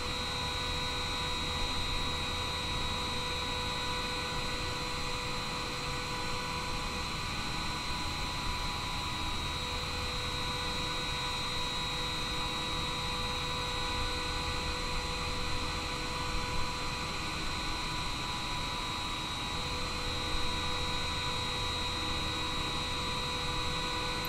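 A TUI airliner being pushed back by a tug at Tenerife in Microsoft Flight Simulator 2020: a steady, unbroken drone of engine and ground-equipment hum with faint tonal whines, unchanging for the whole stretch.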